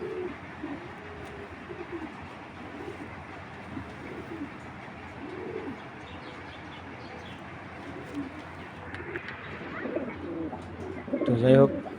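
A female Cheeta-breed pigeon coos in soft, repeated low murmurs over a steady background hum, with a louder burst of close calls near the end.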